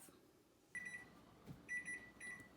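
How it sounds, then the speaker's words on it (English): A kitchen timer sounds short bursts of high electronic beeps in quick groups, fairly faint, with a brief soft knock between them. "I'm going to set the timer for 5 minutes"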